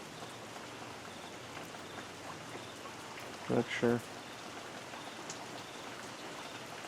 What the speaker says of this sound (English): But I hear the rain increasing now.